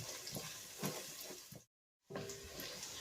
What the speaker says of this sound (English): add the chopped garlic. And then give that another wee gentle fry